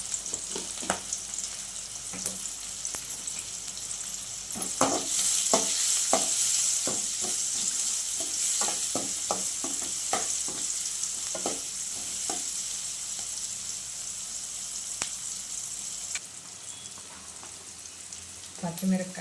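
Onions frying with salt in a pan for Andhra-style chicken pulusu, a steady close sizzle with intermittent stirring clatter and soft scraping, a voice briefly audible under the frying.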